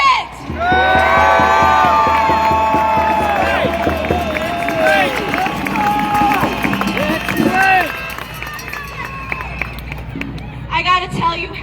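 A large crowd at a protest rally in Washington DC cheers and whoops loudly and steadily, with music-like tones and a voice over the top, fading near the end.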